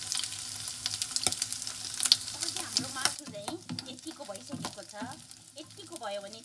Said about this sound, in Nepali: मजाले फ्राई भइरहेछ।